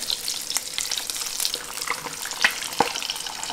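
Four eggs frying in oil in a sectioned pan, a bright close crackling sizzle with scattered sharp pops and spits over a few seconds.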